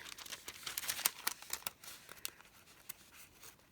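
Sheets of crinkly heavyweight tissue paper, 12 by 12 inches, are handled close up, giving irregular bursts of crackling and rustling that settle into quieter scattered crinkles, with no talk over them.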